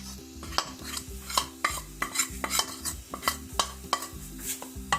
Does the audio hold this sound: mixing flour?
yes